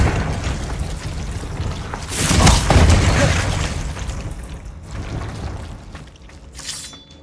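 A Confringo fire spell blast in Hogwarts Legacy, a loud booming burst that swells and rumbles before fading, followed by a smaller pop, with a voice calling out.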